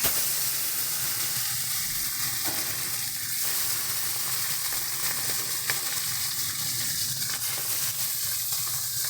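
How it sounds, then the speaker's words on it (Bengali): Tilapia pieces rubbed with salt and turmeric sizzle in hot oil, a steady close crackling hiss that continues throughout with small pops and spatters. "তেল আমাদের সুন্দর মতন গরম হয়ে গেছে। এবারে দিয়ে দেবো এক এক করে মাছগুলো।"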